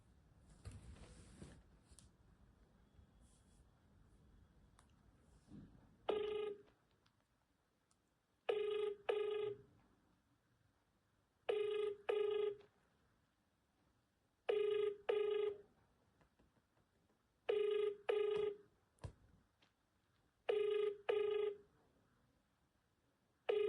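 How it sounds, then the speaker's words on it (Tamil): A telephone ringback tone repeats steadily in paired bursts about every three seconds, loud and clear after a brief stretch of quiet background noise at the start. "இப்போ லாஸ்ட்டாக ஒருத்தவங்க கால் பண்ண போகிறேன்"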